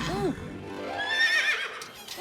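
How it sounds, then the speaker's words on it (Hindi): A cartoon horse whinnies in a 3D comedy cartoon, a loud, close neigh with a rising and falling pitch at the start, then a few softer snorts and breathy sounds. "कितना अच्छा, कितना प्यारा घोड़ा है"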